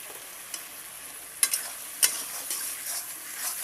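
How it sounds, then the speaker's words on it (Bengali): A spiced mixture sautés in hot oil with a soft continuous sizzle, punctuated by a few sharp spatula scrapes and stirring clicks, with no voices. "এবার আমি এটাকে ভালো করে 10 মিনিট ধরে কষবো, যতক্ষণ না তেল ছাড়ে"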